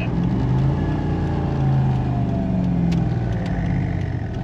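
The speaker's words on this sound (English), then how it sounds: "It's like a flutter, eh? It wasn't there. It's a bit like an exhaust leak, actually." A 3UZ V8 in a Hilux Surf body on a two-wheel-drive Hilux chassis idles steadily and close by, with a low, throbbing rumble and a faint flutter like an exhaust leak.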